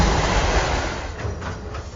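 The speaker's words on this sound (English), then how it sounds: "this train crosses over the border at midnight" A wartime freight train loaded with wheat rolls along the rails with a steady, dense rumble and rattle, loud and close, fading slightly, with no voices.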